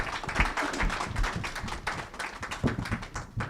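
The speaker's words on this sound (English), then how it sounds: "Can you give them a round of applause for them being here?" A high school audience applauds in a brief, lively burst of scattered clapping that carries on steadily for a few seconds.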